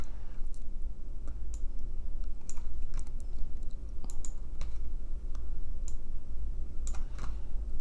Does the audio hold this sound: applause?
no